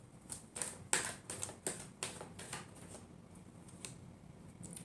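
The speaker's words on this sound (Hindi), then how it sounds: "Last shuffle." Tarot cards are shuffled in a quiet room, giving a quick series of soft, crisp riffling taps and flicks that cluster in the first few seconds and then thin out, close and faint.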